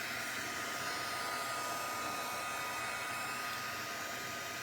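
A hair dryer blows on a craft project with a constant, even whoosh that stays at one level throughout, with no voices.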